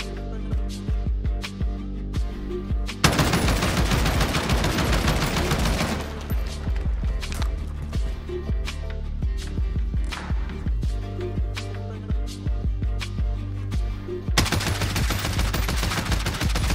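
An Oden rifle in Warzone, fitted with a suppressor, fires in dense rapid bursts and single shots for a long stretch. The sharp, close reports come in a steady rhythm with brief pauses between strings.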